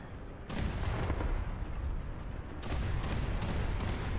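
A ZSU-37 anti-aircraft gun fires in the War Thunder video game, sending out loud, dense, sustained bursts of rapid cannon fire with a short pause before a second volley.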